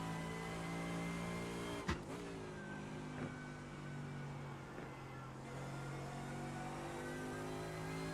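A race car engine in the iRacing sim racing game drones steadily and loudly at high revs, with a brief sharp click near the start and slight shifts in pitch as it runs on.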